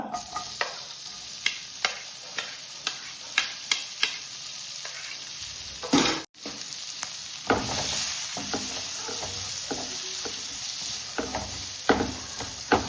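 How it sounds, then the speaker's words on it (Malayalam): Sliced onion dropped into a hot pan and stirred with a utensil: a continuous sizzle punctuated by regular sharp taps and scrapes, close and clear, with a brief break midway before the frying resumes. "അതിലേക്ക് നമുക്ക് ഈ സബോള അതിട്ട് കൊടുക്കുക."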